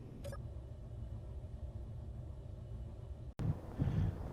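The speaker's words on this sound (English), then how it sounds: "Well, a dust storm's coming in," A dust storm in the video game Space Engineers rolls in as a steady, loud, low wind rumble that cuts out briefly near the end and then resumes heavier.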